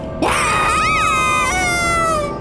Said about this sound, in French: Jeanne et sa mère hurlent à plein poumon lorsque la voiture quitte la route juste avant d'atteindre l'entrée du pont.